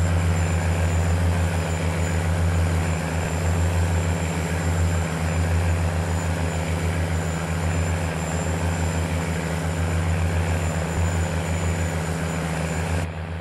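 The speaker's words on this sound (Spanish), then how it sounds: "Ya lo habíamos utilizado y es un tractor muy, muy poderoso" A powerful Steiger tractor runs while plowing farmland, its engine giving a loud, steady low drone with a constant whine throughout and no talk.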